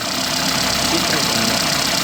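A Lada 2114 engine with maladjusted valves idles roughly, a loud, steady mechanical drone with a faint ticking clatter running throughout, close by.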